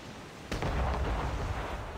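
Gunfire in the video game Assassin's Creed Rogue, a single sharp boom followed by a rumbling, echoing burst over dense game background noise.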